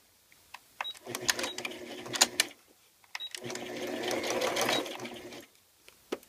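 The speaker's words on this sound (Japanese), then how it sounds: "この辺りから一周ぐるりと端ミシンをかけます" Sewing machine running a topstitch around the edge of a lined lesson bag: short whirring bursts of rapid needle clatter, then one longer steady run, with pauses and small clicks between, close and clear.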